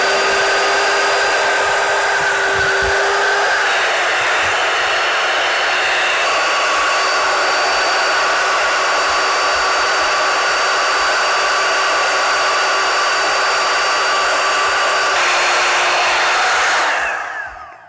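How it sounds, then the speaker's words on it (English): An electric air pump inflating an all-weather hail car cover drones steadily and loudly at close range, holding a constant whine with slight pitch shifts before cutting off at the end; nobody speaks. "So this pulls air in and pushes it out."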